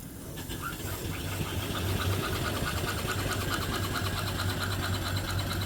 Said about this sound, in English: Very quiet running engine.